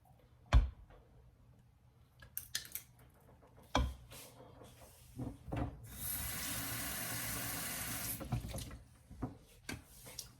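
Half a cup of water poured into a bowl for candy popcorn mix, a steady splashing pour lasting a couple of seconds amid kitchen clatter and knocks, close and moderately loud.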